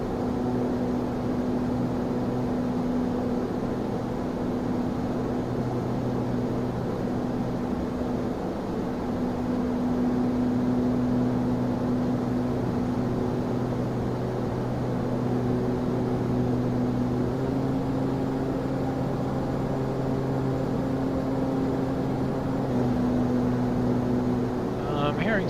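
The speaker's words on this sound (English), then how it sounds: "Some weird engine sound." ATR 72-600 turboprop engines in Microsoft Flight Simulator 2024 drone with a steady, loud tonal hum through the whole stretch, an oddly wavering pitch running continuously with no talk over it.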